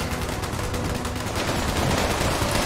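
A Gatling laser in Fallout 76 fires in a continuous rapid stream, loud and close, during a Scorchbeast Queen fight, dense sustained bursts with no talk over it.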